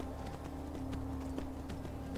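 In Skyrim, a horse's hooves clop steadily while it clambers up a mountainside, with repeated soft thuds at a brisk, regular pace and a faint hum beneath.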